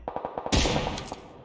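Gunfire in the online shooter PUBG Lite: a rapid burst of distant rifle shots with one louder, closer crack in the middle, heard alone without talk.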